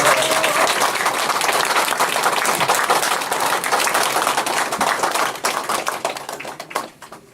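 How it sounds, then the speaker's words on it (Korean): Warm applause from the audience at a Bucheon mayoral candidacy press conference for candidate Lee Jae-jin, dense clapping that holds strong before thinning into scattered claps and fading at the end. "우리 이재진 후보에게 다시 한번 뜨거운 성원의 박수"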